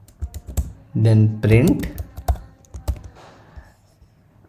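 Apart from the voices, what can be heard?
typing code on a computer keyboard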